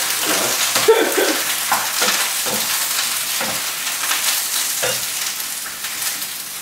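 Eggplant for a ratatouille fries in oil in a slightly crowded pan with a steady, close sizzle. Recurring scrapes and clatters of stirring break through the hiss.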